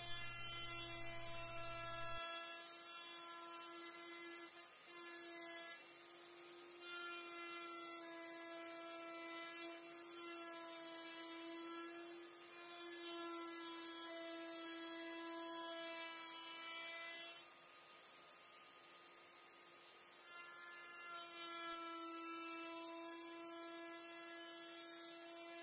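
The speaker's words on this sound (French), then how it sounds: "j'installe ma défonceuse sous l'établi. Elle me permet d'arrondir tous les bords." A wood router mounted under a workbench rounds over the edges of wooden parts, producing a faint, steady motor whine rich in harmonics, with a slight rasp as the bit cuts.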